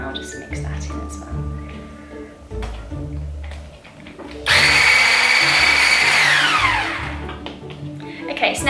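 An electric hand mixer whirs loudly through banana bread batter for a few seconds, starting abruptly and winding down, amid clattering kitchen sounds and handling noise.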